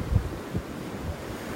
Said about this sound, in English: there's another big gust of wind